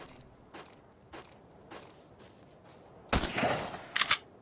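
Pump shotgun fired from the hip in Ark: Survival Evolved, a few faint mechanical clicks and footsteps leading to a loud blast and a second quick burst near the end.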